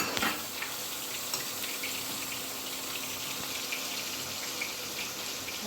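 Tomato paste hitting hot oil in a pan of Indian fish masala curry, a steady close sizzle and frying hiss that runs without pause, with light watery stirring.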